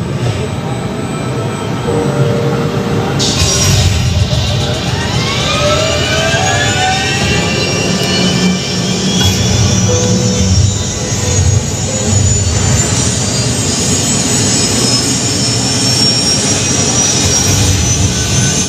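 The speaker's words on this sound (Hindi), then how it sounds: "सामने हेलीकॉप्टर है जो कि उड़ेगा" A loud, steady helicopter engine roar fills an indoor museum show space, with a turbine whine rising in pitch as it powers up for take-off.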